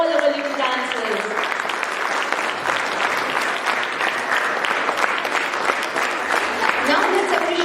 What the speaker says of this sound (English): A big round of applause for all our little dancers.